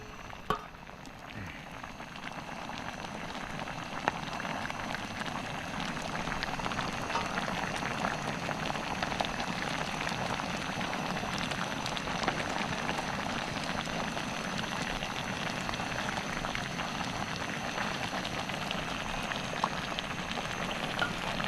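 Steady rain falls on a roof in a wet forest camp, a dense continuous patter and hiss holding an even level for the whole stretch, with no talking.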